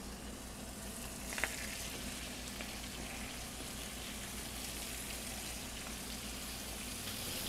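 Spinach flash-fries in olive oil in a pan, giving a soft, even hiss that stays faint and steady throughout, with one brief click near the start and no voices.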